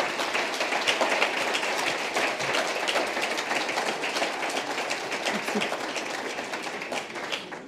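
An audience at an evening economics talk on the digital revolution applauds a guest speaker, a loud, sustained wash of many hands clapping that fades slightly toward the end.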